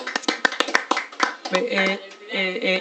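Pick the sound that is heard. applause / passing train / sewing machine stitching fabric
applause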